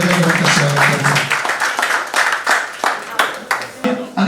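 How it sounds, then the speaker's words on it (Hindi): An audience at an award ceremony bursts into loud, sustained clapping in welcome, fading into bursts of scattered claps while a voice speaks over it. "रिस्पेक्टेड दीप्ति देशमुख मैडम के लिए एक बार जोरदार तालियां बजाकर स्वागत करते हैं।"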